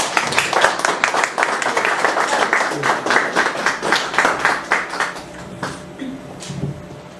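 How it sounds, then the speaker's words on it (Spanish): An audience applauds an archaeologist at a lecture, brisk rhythmic clapping that tapers off after about five seconds, with faint voices murmuring as it ends. "Fuertes aplausos."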